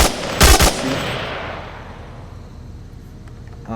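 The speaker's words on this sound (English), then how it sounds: "you pull the gun up to your face, and you can look around. Also, this allows you to lean, so if you're leaning around a corner, you pull the gun up and shoot" Gunfire from the VR shooter Onward: one loud, close burst of rapid shots early on, followed by a long fading echo tail and quiet ambience, with a faint click near the end.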